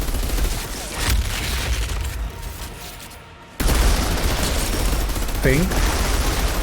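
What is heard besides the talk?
weapon gunfire in the video game Outriders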